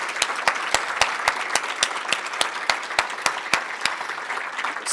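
A conference audience gives a round of applause for college presidents standing in the room, a dense, steady clapping from many hands filling the space without letup.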